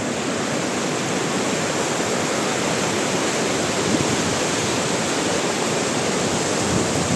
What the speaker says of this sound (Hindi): ये झरने से जो पानी आ रहा है बहता हुआ